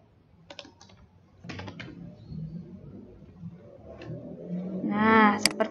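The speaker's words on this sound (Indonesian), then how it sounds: "Kita ketik." Typing on a computer keyboard comes in short bursts of quick key clicks separated by pauses, close up, with a voice speaking faintly underneath toward the end.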